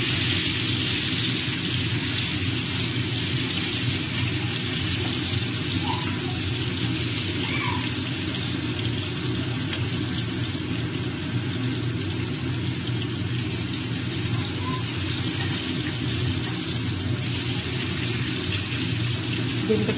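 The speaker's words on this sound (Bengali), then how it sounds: "হালকা একটু ভেজে নেব।" Egg frying in a pan with a pinch of turmeric makes a steady, loud sizzle that holds evenly for the whole stretch, with no talk over it.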